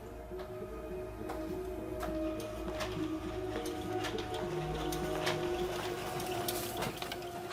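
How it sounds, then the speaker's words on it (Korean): An office photocopier runs and prints pages with a steady mechanical hum and irregular ticks and clicks, quiet and continuous with no voices. "복사기 돌아가는 소리가 들리는 거예요."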